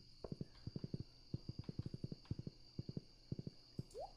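Horse hooves while riding in Stardew Valley: brisk clip-clop beats in quick irregular clusters, quiet and close, over a faint steady game hum.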